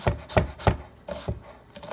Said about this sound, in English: Go ahead and just cut this up real quick.